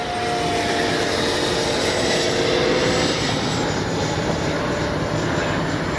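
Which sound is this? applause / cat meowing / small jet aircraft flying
small jet aircraft flying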